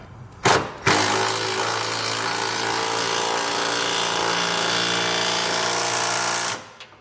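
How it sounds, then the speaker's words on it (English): A power impact tool runs in one long continuous burst, tightening bolts on a B and W fifth wheel underbed hitch kit on a 2021 Ford F-250 Super Duty, after a short blip, loud and close. "Come back and tighten down the other two bolts here on the inside."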